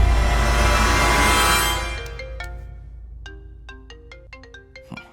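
A loud rushing noise fades out, then a phone ringtone plays a short series of bright electronic notes, clear and nearby.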